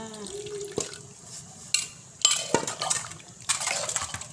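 Fish sauce, boiled with lemongrass and kaffir lime leaves, poured into a Thai fish and eggplant dip: a brief liquid trickle and splashes mixed with clinks of utensils and dishes, close by and moderately quiet.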